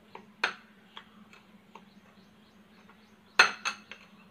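Snack ingredients for maleeda being stirred in a bowl, sparse light clinks and taps of a utensil against the dish, with two sharper knocks standing out amid quiet scraping, close and without talk.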